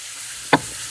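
Fresh garlic, onion and thyme sizzling in a pot, a soft steady frying hiss with two brief, sharp clattering bursts as ingredients or a utensil hit the pan.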